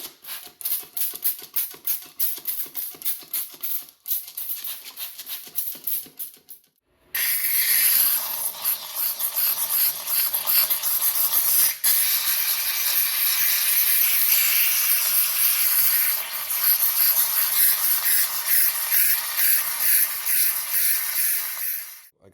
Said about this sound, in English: Getting ready to soak it with some wheel cleaner first before I start using the steamer.